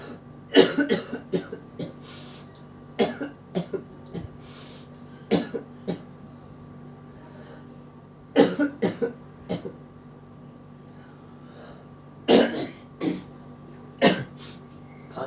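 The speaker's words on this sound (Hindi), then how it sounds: "खांसी हो रहा है बहुत चिल्ला चिल्ला के।" A teacher coughs repeatedly during a lesson, with harsh, close bursts coming in clusters and short quiet gaps between them, and some throat clearing mixed in.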